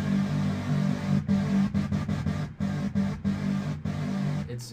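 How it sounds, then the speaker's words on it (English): A sustained, buzzy synthesizer tone with a wavering, slightly out-of-tune quality, playing steadily with brief choppy dropouts, fairly quiet. "this is the original synth sound"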